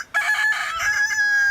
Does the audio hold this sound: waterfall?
no